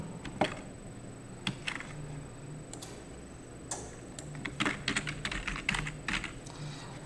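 Someone types on a computer keyboard, with scattered individual key clicks followed by a quicker burst of close, crisp tapping under a faint background hum.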